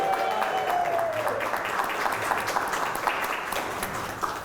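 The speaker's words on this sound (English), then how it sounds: "we'd like to give the mayor and the city council a round of applause" Audience applause for the mayor and city council at an Assyrian flag raising, a steady burst of clapping heard up close that tapers slightly toward the end.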